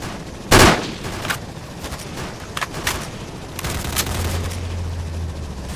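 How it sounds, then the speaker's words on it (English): Gunfire in STALKER: Lost Alpha: one heavy, booming shot opens, followed by several quieter scattered shots and cracks over a steady background hum, with a low drone joining near the end. "He's shooting at us!"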